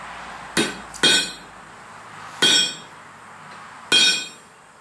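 Four sharp metallic hammer strikes ring out on a small anvil as an overlong rivet is cut down on a hardy cut-off tool, irregularly spaced, each blow bright and clanging with a short decaying ring, close and alone.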